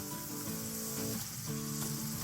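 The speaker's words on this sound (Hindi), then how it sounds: "देखिए कितने प्यारे हमारे पकौड़े फ्राई हो गए हैं" Potato and onion pakoras deep frying in hot oil, a steady, dense sizzle that holds at a fairly even level throughout without talking.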